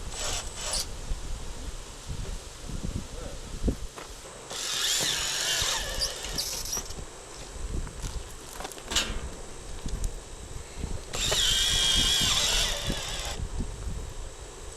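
A power drill drives pre-drilled screws into metal siding in two bursts of whirring, each about two seconds long, set against quiet background clatter and handling noise.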